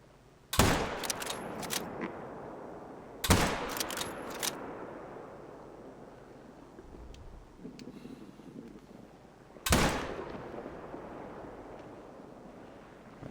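Three separate gunshots ring out in theHunter: Call of the Wild, a hunting video game, each a sharp loud crack with a rolling tail, spaced a few seconds apart over a quiet outdoor ambience.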